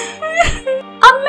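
A woman's short, high wailing cry rises and breaks twice, close and fairly loud, with a sobbing, moaning quality and no words.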